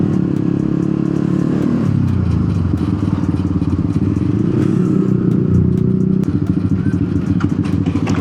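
A motorcycle rides along a mountain road, its engine droning loud and close throughout with shifting revs, rattles and wind buffeting.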